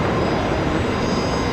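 An airliner at Brisbane Airport thunders down the runway on a full-length takeoff roll, a loud, dense, unbroken engine roar with a thin high whine riding on top.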